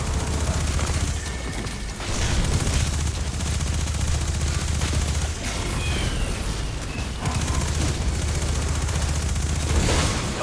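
Submachine gun fire in Destiny 2, dense sustained bursts with mechanical clatter, broken by a few brief pauses across the stretch.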